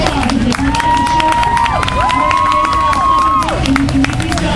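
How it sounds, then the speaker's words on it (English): Loud crowd cheering and applause at a national event, a continuous dense roar with shouting voices and a host talking over it. "Let's give them a huge round of applause as they come on the show."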